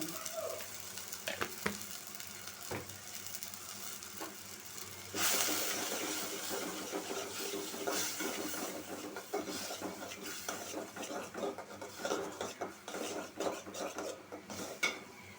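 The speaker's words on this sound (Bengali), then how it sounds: "মশলাটা কষানো হয়ে গেছে" Spice paste for a puti fish and potato curry fries in a pan while being stirred, a steady soft sizzle with scattered scrapes and clinks of the spoon throughout, no talking.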